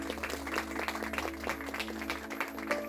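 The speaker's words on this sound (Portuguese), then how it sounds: "Aplauda o Senhor Jesus." A live audience at a motivational talk claps together in a sustained, dense patter of applause, moderately loud with no talk over it.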